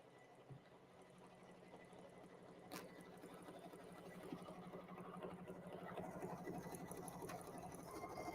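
An embroidery machine stitches lace for the front of a Christmas card, giving a faint, steady, rapid mechanical whirring that runs the whole time with a slight hum underneath.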